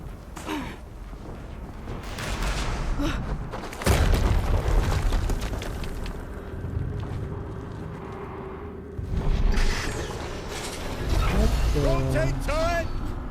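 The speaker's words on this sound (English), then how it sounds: "Another explosion." Explosions in the video game Horizon Zero Dawn Remastered: two heavy booming blasts a few seconds apart over a steady, rumbling game soundscape, with a person talking throughout.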